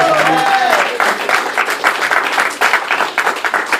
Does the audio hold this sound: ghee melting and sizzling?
no